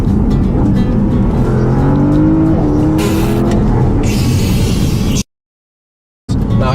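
Car in sport plus mode accelerating hard to overtake on an open road, engine rising in a loud close roar with tire and wind noise, then abruptly cut to silence before briefly resuming.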